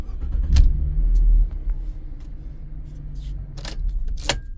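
A 2015-2019 Ford Transit engine cranks and catches with a deep rumble, then settles into a steady low idle, with a few light clicks and rattles from keys and the cabin.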